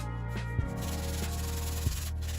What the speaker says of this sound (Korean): 그리고 손에 땀이 나도록 사포질합니다.